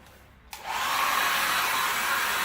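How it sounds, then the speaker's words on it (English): A hair dryer blows warm air on a wet-installed tank flag decal. It switches on with a click, then a steady loud whooshing roar holds close to the microphone. "I use a hairdryer to add some heat to it."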